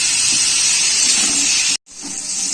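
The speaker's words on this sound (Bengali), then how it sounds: "দিয়ে আমি আলুটাকে ভালো করে ভেজে নেব" Potatoes seasoned with salt and turmeric sizzle in a frying pan, a loud steady hiss filling the whole stretch, cut by a brief gap before the sizzle resumes.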